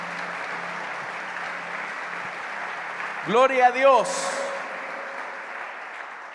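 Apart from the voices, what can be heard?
congregation applauding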